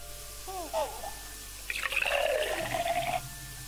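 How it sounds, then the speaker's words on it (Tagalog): A toilet flushes in the Mother Simulator video game, a short rush of water lasting under two seconds. Brief game chirps come just before it, and no one talks. "kailangan ko pala mag-flush"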